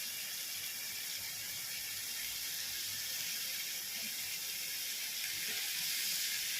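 A bunch of chopped spinach fries in a pan for a prawn and spinach stir-fry, giving a steady, close, bright sizzling hiss that runs without a break and with no talk.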